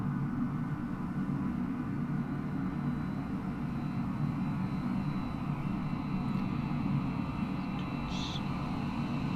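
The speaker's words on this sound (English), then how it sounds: "I'm thinking that's a 787 that's taxiing in." A Boeing 787 taxiing in Microsoft Flight Simulator 2020 at Sydney gives a steady, continuous jet engine rumble and hum that holds evenly throughout, with no talk over it.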